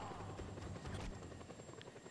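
A helicopter in the video game Just Cause 2 gives a steady, loud rotor-and-engine drone with a low thumping throb that holds for the whole stretch.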